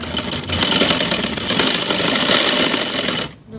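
A sewing machine stitches along a fused edge of a boat-neck garment, its motor running in a steady, loud, continuous whir for about three seconds before stopping abruptly.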